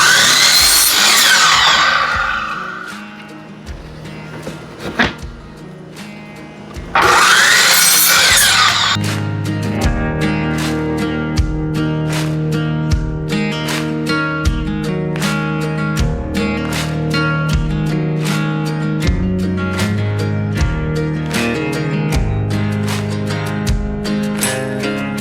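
A power saw rips wood into 1-inch strips, with a couple of long loud cutting passes early on. These give way to steady tool running marked by regular sharp clicks or knocks, close and loud throughout with no speech.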